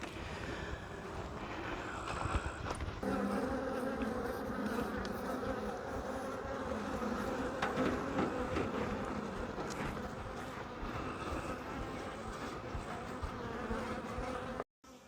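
Honeybees swarm around an open hive during an inspection, a dense, continuous buzz close by, with occasional bees zipping past louder and no talk.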